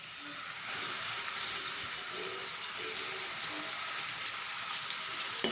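Curry leaves and onions fry in hot oil in a pan, giving a steady close sizzle and crackle with a few soft stirring sounds and no talking.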